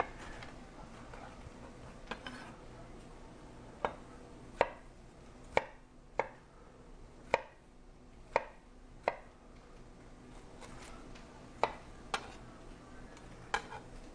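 Knife chopping food on a cutting board, a dozen separate sharp thuds at an irregular, unhurried pace, close and clear over a quiet kitchen background with no talking.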